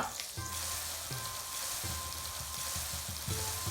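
Chopped onion, garlic and ginger sizzle steadily in hot oil in a pan, a continuous close crackling fry with faint stirring scrapes and no voices.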